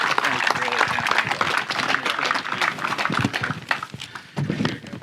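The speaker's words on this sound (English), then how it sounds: "Let's give him a big round of applause." Audience clapping at a veterans' fishing tournament weigh-in, a steady dense patter of many hands over about five seconds, mixed with crowd chatter and voices throughout.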